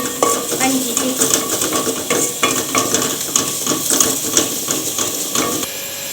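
A metal spoon scrapes and knocks rhythmically against a pan while browned onion masala with salt, chili and turmeric is stirred and fried, a steady busy clatter throughout.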